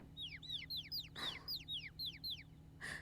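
Chickens in the video game Ai: Somnium Files give a steady run of short, bright clucks at an even rhythm, with a couple of louder squawks mixed in, heard clearly over a quiet low hum.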